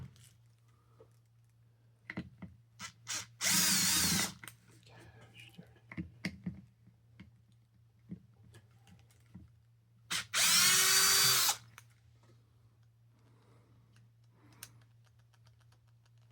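A Snap-On CTS761 brushed 3/8-inch impact wrench works on tight screws, giving two loud bursts of about a second each, with soft handling clicks and quiet muttered speech in between over a steady low hum.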